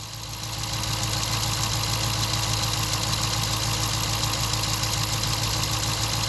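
Hemi V8 engine idling with a steady, continuous running drone and a faint repetitive ticking laid over it, close and constant throughout with no speech.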